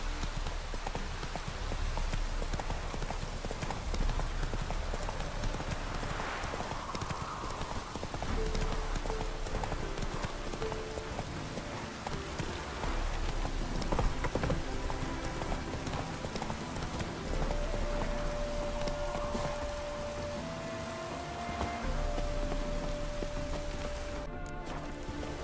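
Horse Roach galloping in The Witcher 3 with a constant, loud run of hoofbeats under game music and ambience, steady throughout.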